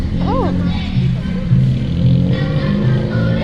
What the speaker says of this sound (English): it's very noisy, lots of cars